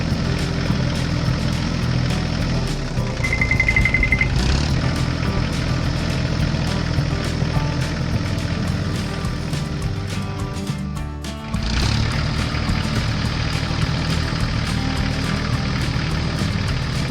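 A new green John Deere tractor tows a large trailer toward a gravel pit. Its heavy diesel engine rumbles loudly and steadily throughout, and a brief dip near the end is followed by the engine pulling again.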